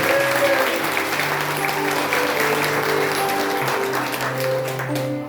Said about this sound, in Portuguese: palma para Jesus de Nazaré. Aplauda para ele.